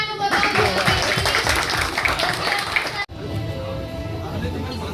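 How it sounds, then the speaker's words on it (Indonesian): Crowd of Persib football supporters (Bobotoh) clapping at a fan discussion event, loud and dense applause mixed with voices and cheering, briefly cut then continuing. "Kita kasih tepuk tangan untuk Bobotoh"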